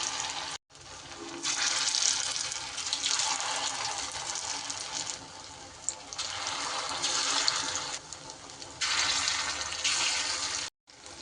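Small dough balls fry in hot oil with a loud, continuous sizzle that swells and eases in waves, briefly cutting out near the start and end, with no talking.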